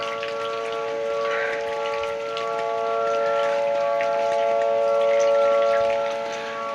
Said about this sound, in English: You can hear we still got tornado sirens.